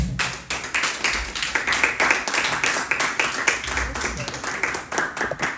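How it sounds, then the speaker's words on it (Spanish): Congregation in a church service offers applause to the Lord, a dense run of fast, steady handclaps at moderate volume with a low murmur of voices beneath. "Dale una ofrenda de palmas al Señor."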